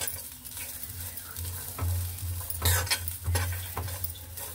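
Tempering spices sizzling in oil while being stirred, with gentle frying hiss, a low hum beneath and a few louder scraping bursts, close up and quiet, no voices.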